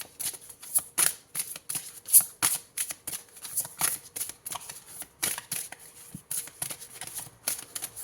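Oracle cards shuffled and drawn by hand at close range, heard as a series of quick, rhythmic riffling and slapping bursts with brief pauses between them.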